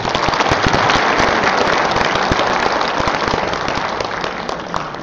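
Conference audience applauding at the opening ceremony of an international academic symposium on Buddhism and the Fourth Industrial Revolution, a loud, dense burst of clapping from a large crowd that carries on steadily and fades slightly toward the end.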